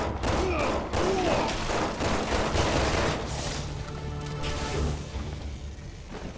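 Gunshots in the video game Resident Evil 6 ring out in a dense, loud barrage of rapid shots and thuds over the first few seconds, then fade into rumbling game ambience.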